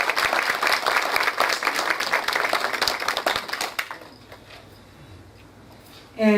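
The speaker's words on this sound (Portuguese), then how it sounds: "Solicitamos uma salva de palmas às nossas convidadas de hoje." Audience applause for invited guests at an AJEB-RJ meeting: brisk clapping from a room of people for about four seconds, then fading to quiet room tone before a brief louder sound at the end.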